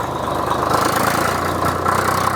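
A Swaraj 744 tractor engine idles steadily and close by, its low diesel rumble even and unbroken with a slight knocking texture.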